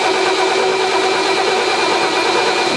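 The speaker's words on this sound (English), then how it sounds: "you're going to turn the engine over" A 1967 Corvette engine running at a steady idle after cranking over, with a loud, even mid-pitched rumble and a constant drone held throughout, no voices.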